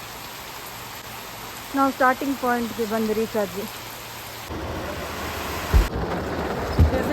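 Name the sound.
heavy rain in the forest, with thunder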